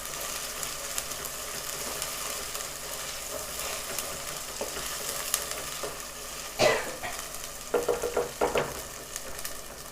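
Chicken with ginger-garlic paste frying in oil for a Telangana-style chicken fry, a steady low sizzle throughout with a few louder scraping stirs of the pan near the end, no talking.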